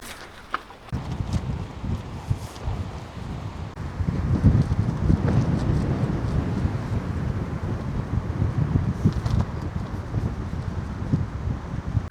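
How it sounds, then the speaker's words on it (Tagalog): Strong wind buffets a tent at a campsite, a loud continuous roar with gusting rumble that swells partway through and stays close and heavy. "Ang lakas ng hangin."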